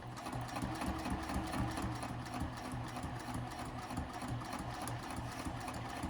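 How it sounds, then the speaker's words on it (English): A sewing machine runs steadily, stitching forward and back-stitching while sewing a double-pocket wristlet clutch, a continuous close mechanical whir without pauses or talk. "I'm going to drop the needle right in the corner there. I'm going to go forward, top, back stitch, and then go forward."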